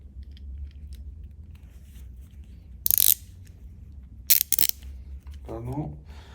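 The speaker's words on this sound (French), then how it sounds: "vous pouvez l'utiliser en tant que fonction de clé à cliquer" A Facom ratcheting combination wrench gives two short bursts of rapid, close metallic ratchet clicks over quiet background hum, followed by a brief voice at the end.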